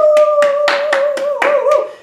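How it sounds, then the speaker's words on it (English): Hands clap in a steady rhythm, about eight sharp claps in two seconds, loud and close, during a lower primary classroom drama lesson, with a sustained whistle-like tone running underneath. "And the crowd goes wild."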